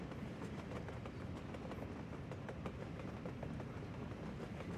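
A train runs along rails in the Soviet-era city-building game Workers & Resources: Soviet Republic, a faint, steady rumble with soft repeated clacks and no speech over it.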